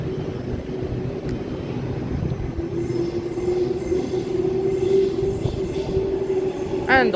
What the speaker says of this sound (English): there is a Waratah approaching platform 1